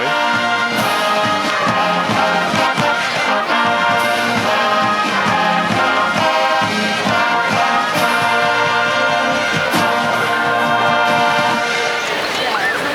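High school marching band performing a fanfare at a football game, picked up from the rear of the band: dense, continuous brass and percussion with steady drum pulses, loud and sustained throughout with a busy, slightly distant field sound.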